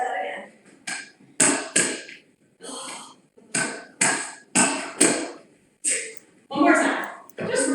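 A ball bounces on a hard, not very bouncy indoor surface during hand-eye drills, giving a steady series of about a dozen sharp, close thuds at roughly half-second intervals, with brief gaps between.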